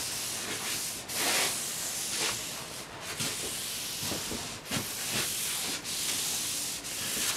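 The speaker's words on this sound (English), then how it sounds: "I'll just take that little bit of extra linseed oil and spread it around." A rag works linseed oil across the surface of a wooden coffee table, producing steady close-up rubbing and wiping swishes in repeated strokes with brief pauses between them.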